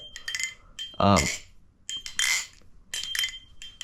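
Spider balisong butterfly knife flipped by hand, giving quick metallic clinks and rattling clicks in short bursts with brief pauses between, close and crisp, no voice.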